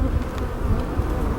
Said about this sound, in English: You can see bees fighting right there.